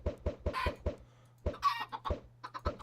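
Chickens in Minecraft cluck repeatedly in short, close, fairly quiet bursts over a low steady hum, with no talking.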